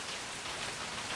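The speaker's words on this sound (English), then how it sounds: "Just nice, peaceful rain now, a little bit of distant thunder." Steady evening rain falls on a summer night, a dense, even patter that holds at the same level throughout with no other sounds standing out.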